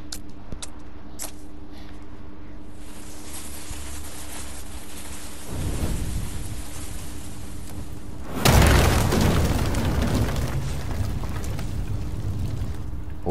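A powder keg explosion in Ghost of Tsushima bursts loud and near after a steady rumbling ambience, a broad booming blast followed by a long crackling, roaring decay.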